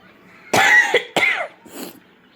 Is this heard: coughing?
yes